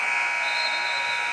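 End-of-quarter buzzer at a boys high school basketball game between Ellenville and Webutuck, a loud steady nasal electronic tone held throughout without a break.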